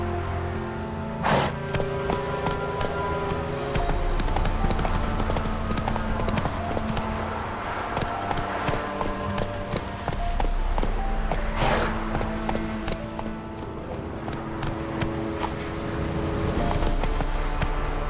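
A horse's hooves clip-clop in The Witcher 3 video game as the mount trots and gallops, a brisk steady rhythm of close hoofbeats running throughout with a wet, rainy background.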